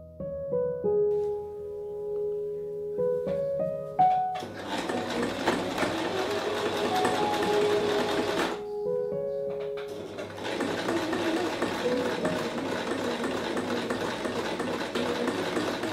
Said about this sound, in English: Anyone else get terrified in that first instance before you start sewing?